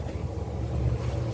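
A sailboat's big Volvo engine runs at about 1500 RPM, giving a steady low rumbling drone with some wind noise over it and no speech.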